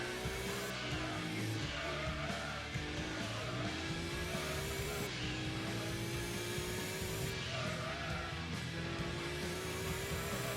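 A race car in the video game Gran Turismo 2 spins out, with a loud continuous engine roar and squealing, skidding tires that rise and fall over about ten seconds.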